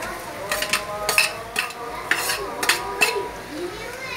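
Potatoes are stirred into fried onions in a pan, giving repeated scraping clinks of a spoon against the pan over a soft sizzle, close and fairly loud, with no talking.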